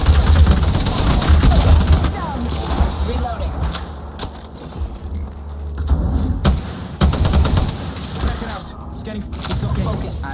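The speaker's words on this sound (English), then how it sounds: "They're shooting at us." Bursts of automatic gunfire from the Halo shooter game crackle in repeated volleys over a dense battle din, loudest near the start and again mid-clip, with voices talking underneath.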